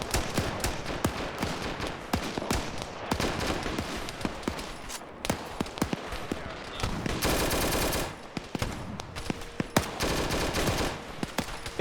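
Sustained automatic gunfire in a video game, loud and close, with dense rattling bursts and overlapping shots running almost continuously, one long unbroken stretch in the middle and sharp single cracks scattered around it.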